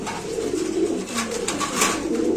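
Pigeons, including king pigeons, coo in soft, low, throaty murmurs at a pigeon market, several birds overlapping continuously at close range with no talking.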